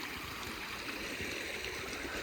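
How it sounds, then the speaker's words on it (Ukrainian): A shallow, clear mountain river runs steadily over stones, its broad hiss and gentle gurgle continuous and fairly close, with no voices over it. "Річка зовсім мілка зараз, а влітку вона покривала каміння"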